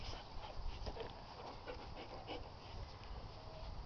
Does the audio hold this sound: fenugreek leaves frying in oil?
no